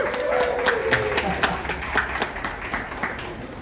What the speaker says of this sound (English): Do a nice round of applause.